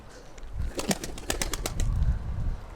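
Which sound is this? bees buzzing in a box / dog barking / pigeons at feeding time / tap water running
pigeons at feeding time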